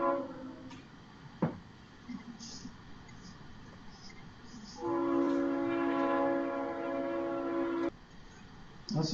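A train horn sounds in one long, loud, steady blast lasting about three seconds, heard from a distance with a rumbling background of passing rail traffic and brief talk before it.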